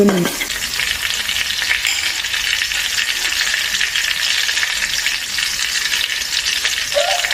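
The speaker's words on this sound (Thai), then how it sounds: "ตอนเจียวกระเทียมนี่สำคัญก็จะให้หอมก็คือ ไฟกลางค่อนข้างอ่อนไม่ต้องใช้ไฟแรง" Chopped garlic fries over medium-low heat in a pan with a steady, dense sizzle, joined by a faint scrape of stirring near the start and end.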